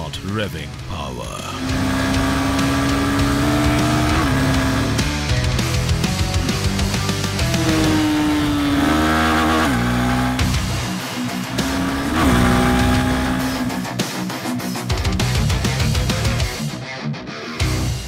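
A Honda Hornet 2.0 motorcycle engine revs loud and close in sweeping, rising and falling pitches, layered over a dense, sustained backdrop for most of the stretch.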